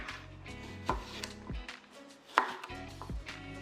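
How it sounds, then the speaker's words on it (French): A knife cuts through an apple on a board, making a few quiet, crisp chopping knocks spaced unevenly over a few seconds, with no talking. "Je vais déjà découper une pomme."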